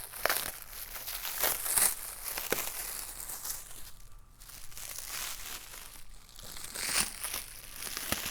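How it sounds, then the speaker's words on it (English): Plastic wrapping is removed from a new heat press, crinkling and rustling close by in uneven bursts, with brief quieter pauses between handfuls of crumpling. "So let's remove this plastic here."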